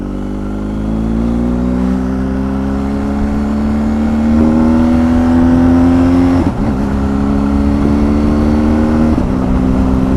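A BMW R1250 GS Adventure TE Triple Black Edition motorcycle engine runs steadily at low revs on a country road, a close, continuous throb with slowly rising pitch and a brief dip in the middle.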